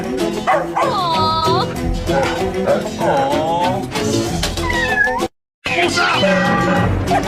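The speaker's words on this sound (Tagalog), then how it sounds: "Pusa!" Repeated cat meows, rising and falling mews, ring out over a busy, loud mix of other animal-like cries and sounds, with a brief dropout near the end.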